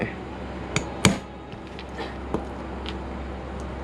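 A hammer strikes a punch into leather to mark stitching holes: a few sharp, isolated taps, one louder than the rest, spaced irregularly over a quiet room hum.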